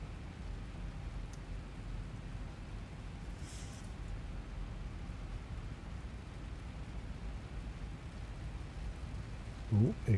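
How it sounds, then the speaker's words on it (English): Steady rain in a Boeing 737 flight simulator running the Zibo mod, a constant broad hiss of rainfall on the aircraft filling the whole stretch, with a brief faint chime partway and a short voice near the end. "Oh, here comes the rain."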